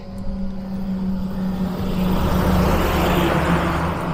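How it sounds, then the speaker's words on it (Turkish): Heavy trucks hauling ore from a gold mine pass along a mountain road, a low engine drone building into a louder rushing pass in the second half, heard alone without voices. "Yalnız burada bir sıkıntım var. Şu geçen kamyonlar."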